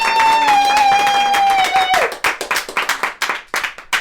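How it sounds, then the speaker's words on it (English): A small group claps for Andrea at a podcast recording, scattered individual claps starting after a moment of voices and music, sparse and close, tapering off unevenly. "Andrea, can we all give Andrea a massive clap,"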